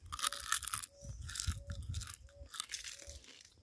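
Crunchy fried fish seasoned with lemon is chewed close up, a series of loud, rhythmic crisp crunches in about five bursts with short pauses between.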